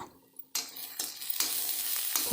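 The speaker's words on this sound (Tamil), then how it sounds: "கறிவேப்பிலையும் போட்டுட்டு நல்லா வதக்கி கொடுக்கலாம்" Onions, curry leaves and coriander sizzle in a hot pan as they are sautéed, starting with a sharp burst of frying and settling into a steady loud crackle, with stirring scrapes breaking in.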